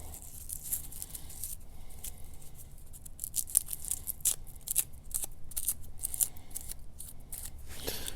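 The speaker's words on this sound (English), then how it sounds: "get as much of that outer paper shell off as you can." Dry, papery crackling and crisp rustles as the thin outer skin is peeled off garlic cloves from a store-bought bulb, in quick irregular bursts close up, with no voices.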